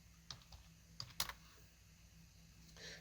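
Someone types on a computer keyboard in a quiet room, a handful of light, scattered key clicks with short pauses between them.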